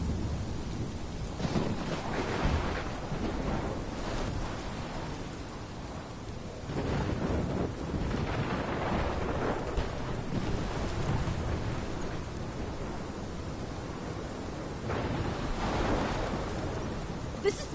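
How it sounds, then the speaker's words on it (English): Thunderstorm in the video game Life is Strange Remastered: steady heavy rain and wind with repeated deep rolling thunder swells, loud and continuous throughout. "This is my storm."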